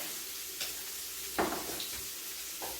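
A lime rolled around in a hot pan sizzles with a continuous close hiss, broken by a few soft scrapes and bumps, with no speech.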